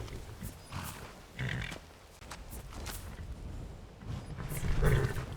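A horse pulling a carriage in the video game Skyrim, with soft hoof clops and snorting amid creaking, rolling movement, moderately near and steady over the short stretch.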